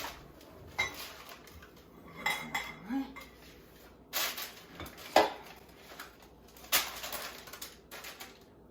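Fruitcake batter spooned and scraped into a baking pan, giving scattered clinks and knocks of utensil against pan at close range, with quiet kitchen noise between.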